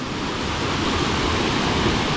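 A waterfall at San Jerónimo de Surco near Lima roars steadily as a dense, loud, unbroken wash of rushing water, close and constant throughout with no voices.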